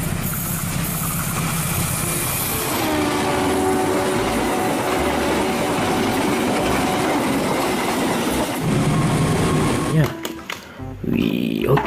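An electric commuter train (KRL) rumbles past nearby with rhythmic clickety-clack from the rails and a steady roar, fading near the end.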